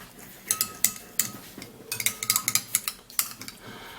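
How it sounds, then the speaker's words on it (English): A spoon stirs an under-eye remedy mixture in a small bowl, making close, irregular metallic clinks and scrapes against the sides. The clinks come in quick bursts with short pauses between them, and no one speaks. "then you would have to stir this"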